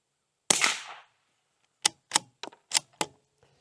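Federal Auto Match .22 rounds fire from a precision bolt-action rifle at a shooting range: one sharp crack with a short tail, then after a pause five quick, snappy shots in an irregular cluster, close and loud against near silence.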